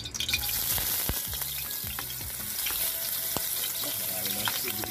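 Ginger sizzles loudly in a hot pan for balbacua, beef cheek stew, a steady close frying hiss with occasional stirring scrapes and clinks throughout.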